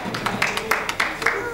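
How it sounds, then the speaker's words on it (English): Congregation in a church service clapping together in a quick, steady rhythm of sharp claps, moderately close. "Let's clap for ourselves"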